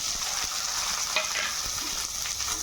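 Cardamom pods and chopped onion frying in oil in a wok give off a steady, fairly soft sizzle with small crackles, heard close up with no talking.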